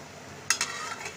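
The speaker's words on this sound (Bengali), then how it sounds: "আমি আর একটু নেড়ে চেড়ে দিচ্ছি।" A spatula scrapes and stirs nearly cooked vegetables in a kadai as the water boils off, giving two quick scraping strokes over a steady soft sizzle from the pan.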